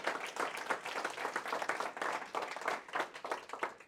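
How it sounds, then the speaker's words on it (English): Audience applause at a real estate and crypto seminar, a steady dense patter of many hands clapping throughout, fairly close and loud with no talking. "I just want to give them a big round of applause"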